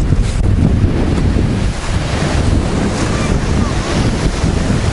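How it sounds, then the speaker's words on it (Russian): Big storm waves crash and roll onto the shore at Sochi, Adler, in a continuous loud roar of surf and foam, mixed with heavy wind buffeting the microphone. "Смотрите, какая волна идет."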